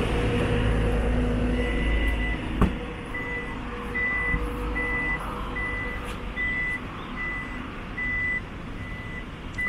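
The power tailgate of a 2022 Toyota Fortuner Legender 2.4 AT beeps in a steady evenly spaced series of short tones over a low background rumble, with no talk.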